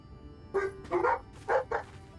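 A dog barks four times in quick, uneven bursts, fairly close and clear with a quiet background, the calls short and yippy.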